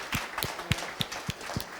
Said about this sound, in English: give her an extra warm applause